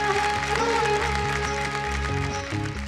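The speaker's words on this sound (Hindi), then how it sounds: "जोरदार तालियां होंगे" Audience applause following a patriotic dance act on a televised dance competition stage, a dense burst of clapping with music playing underneath.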